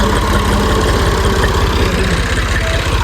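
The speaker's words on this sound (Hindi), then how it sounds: "ट्रैक्टर ले आए हैं और रस्सी के साथ बांध के फिर ट्रैक्टर के साथ बांधेंगे" Tractor engine idling nearby on a farm, a loud steady low chugging rumble with an even rapid pulse and no talking.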